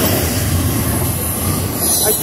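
A freight train hauled by twin NS EMD SD70ACe locomotives rumbles steadily eastbound past at close range, with heavy low roar and metallic wheel noise continuing throughout, loud and unbroken.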